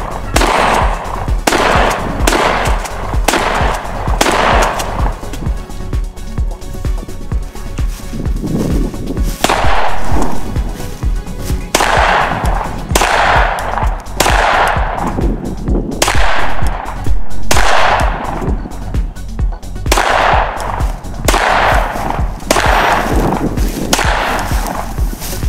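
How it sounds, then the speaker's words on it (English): A Mossberg 500 shotgun is emptied at a steel target, followed by a switch to a Glock 19 pistol. Loud, sharp shots ring out in uneven bursts across the whole stretch, some with metallic pings from the steel. "empty your shotgun on that steel target, and then transition to your pistol"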